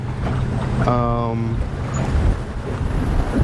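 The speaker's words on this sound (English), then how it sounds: "Ooh, that wind is picking up." Strong wind blows across the water beside a boat near Branson Landing, a steady broadband rush close to the microphone, with a voice speaking briefly over it.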